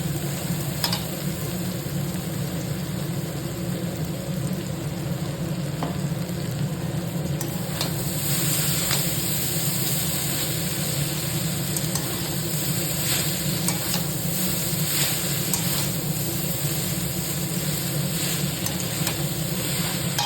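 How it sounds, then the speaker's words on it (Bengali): Vegetable chow mein frying in a pan with three kinds of capsicum, bell pepper, onion and soy sauce, a steady close sizzle and hiss running throughout with occasional stirring clicks. "তিন রকমের ক্যাপসিকাম বেল পেপার পেঁয়াজ দিয়ে ভেজে নিয়েছি, তারপরে সয়া সস দিয়ে একটু নেড়ে নিয়েছি। এবারে চাউমিন দিয়ে দিচ্ছি।"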